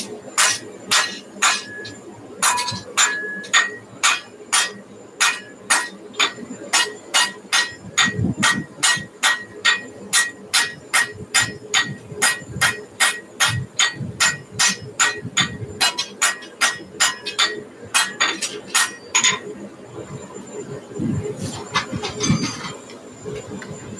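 Rapid, regular hammer blows strike metal in an ironworks, dozens of loud sharp ringing hits in a steady rhythm that briefly pauses and resumes, with faint background noise.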